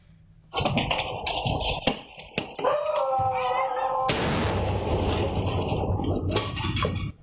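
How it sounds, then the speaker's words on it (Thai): A giant firecracker hurled at a house goes off with sharp bangs and a loud sustained blast, while a dog nearby yelps and whines through the noisy outdoor chaos. "นี่เสียงประทัดยักษ์เหรอ มันเหมือนเสียงระเบิด"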